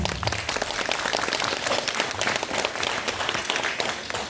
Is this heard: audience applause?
yes